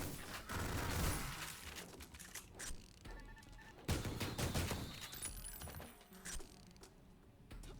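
Rapid gunfire from an inaccurate weapon in the video game Ion Fury, crackling in several dense bursts with short gaps, moderately loud with no voices.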